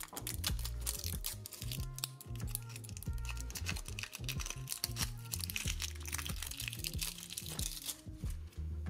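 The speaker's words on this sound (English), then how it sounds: "I'm trying to find an entrance point for the X-Acto knife." X-Acto knife cutting into plastic product packaging for nail art supplies, producing close crinkling, crackling and tapping clicks that pile up continuously with small irregular bursts.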